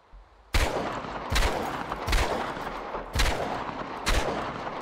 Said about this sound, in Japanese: 銃声が変わった。